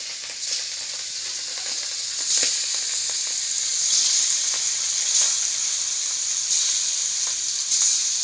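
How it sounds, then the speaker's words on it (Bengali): Pangas fish fries in oil in a village kitchen, a bright continuous hissing sizzle that swells at moments, with a few soft clicks and no talking. "তেল দিয়ে মাছটি ভাজবো"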